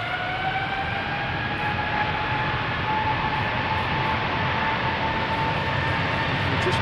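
A KLM Boeing 777-300 taking off at Schiphol roars loudly and steadily, its engine whine gliding slowly upward in pitch over a dense, sustained rumble, close and uninterrupted with no talking.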